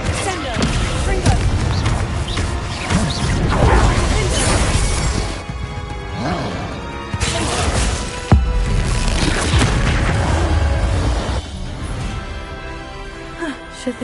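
Blasts from the Confringo fire spell in Hogwarts Legacy: a loud, continuous barrage of booming explosions and crashing impacts with sharp thuds, several waves of rumbling detonations close up, with a voice speaking amid the noise.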